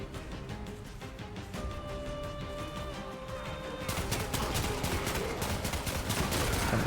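Automatic weapon fire rattles on continuously in the Warframe game, a fast, even stream of shots that grows louder and denser after about four seconds, set against a tonal game soundtrack.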